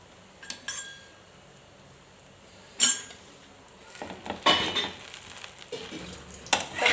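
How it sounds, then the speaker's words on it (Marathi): A metal spatula presses and scrapes food made from idli batter in an oiled pan, giving a handful of scattered metallic clinks and brief scraping bursts separated by quiet stretches. "मी हे असं प्रेस करून घेते सराट्याच्या साह्यानं"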